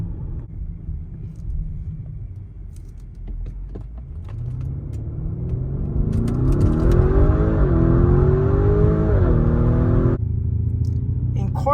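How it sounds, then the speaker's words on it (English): Lamborghini Urus super SUV accelerating at full throttle, a deep engine rumble rising steadily in pitch through the gears, loud and continuous inside the cabin, with a shift near the end. "when you floor it, the transmission responds relatively quickly and maximum power is quickly achieved."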